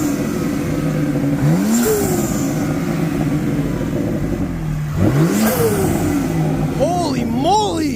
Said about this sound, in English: we're going to do a little bit of some revving so you guys can hear the intakes.